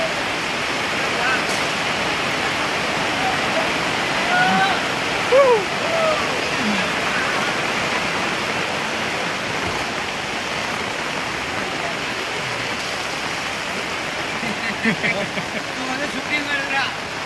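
Heavy monsoon rain pours down on Rajapur's weekly market in a broad, steady roar like rushing water, with faint voices and occasional brief sounds of activity scattered under it.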